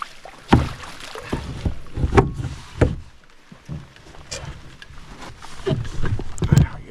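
Canoe paddling on Booth Lake in Algonquin, Canada, with rhythmic paddle strokes and splashes a second or so apart, close and fairly loud over light wind noise.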